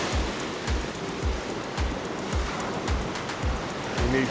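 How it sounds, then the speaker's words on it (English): Sea surf on a Dorset shore at a lure-fishing spot makes a steady broad wash, with soft low thumps recurring about every half second and no voices. "You need to be very careful with the waves here."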